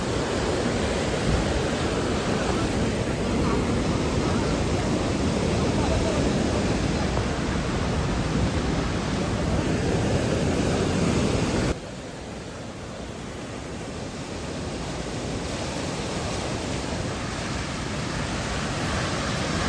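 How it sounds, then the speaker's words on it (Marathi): Floodwater of the Chillar river rushes after a cloudburst and a burst check dam, a loud, unbroken roar that drops in level partway through and then slowly builds again. "आता जास्त पाणी वाढलं काही"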